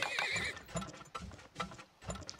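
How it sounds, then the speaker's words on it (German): Horses in the oil-drilling video game Turmoil give a bright whinny followed by a run of hoof clip-clops, loud and close with no talking. "Ach komm, ich hole noch mal zwei Pferde."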